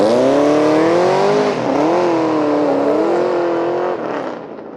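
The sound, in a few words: car engine revving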